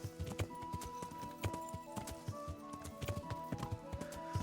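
Horse hooves clip-clopping in a video game, a rapid, steady pattern of hoof strikes on hard ground, moderately near, over faint game ambience with no talk.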